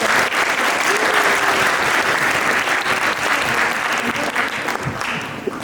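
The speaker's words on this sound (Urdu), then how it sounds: "ان کے لیے آپ تالیاں بجائیں گے" Applause from an audience at a Kashmir-themed event fills the whole stretch, a dense, loud, steady clapping that stays even from start to finish with no voices above it.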